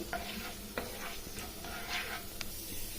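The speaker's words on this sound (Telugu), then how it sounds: "ఇప్పుడు ఇవి మనం కాస్త కలర్ మారే వరకు వేయించుకోవాలి." Urad dal and chana dal fry in a spoonful of hot oil for a raw coconut curry, giving a continuous close sizzle and hiss broken by scraping stirs and a few sharp ticks.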